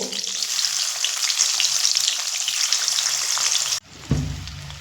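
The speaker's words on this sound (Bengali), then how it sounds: "এবার আমি যে ডিমগুলো লবণ হলুদ মাখিয়ে রেখেছিলাম ডিমগুলো ভেজে নেব" Eggs coated in salt and turmeric fry in hot oil with a loud, steady, close sizzle that runs for several seconds, then briefly drops before a heavier burst of spitting and crackling near the end.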